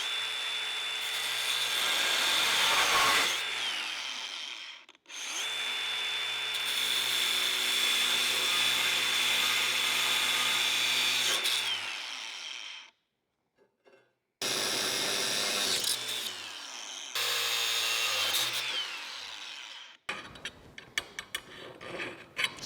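A power tool cuts open metal pieces while a rolling toolbox is turned into a welding cart, in loud sustained grinding bursts separated by short pauses, then a rattling, uneven stretch toward the end.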